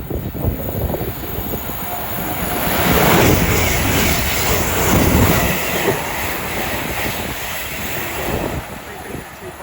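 A train from Birmingham New Street to London Euston runs through Watford Junction on the West Coast Main Line, a broad roaring rumble that builds to a peak around three seconds and then fades slowly, with wind buffeting the microphone.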